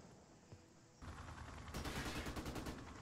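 A Stinger missile launcher fires at a helicopter in Call of Duty: Modern Warfare Remastered, a muffled thump followed by a sustained, loud rushing roar of gunfire-like noise that fills the rest of the moment.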